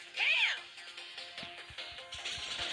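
A cat gives one short, rising then falling meow up close. Afterwards a voice talks quietly over light clatter and soft thumps.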